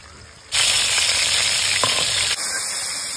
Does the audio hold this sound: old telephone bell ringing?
no